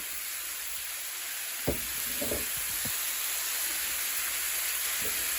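Vegetables sear with rib tips in a pan for sweet and sour rib tips, making a steady, low sizzle with a few sharp scraping knocks of stirring near the start.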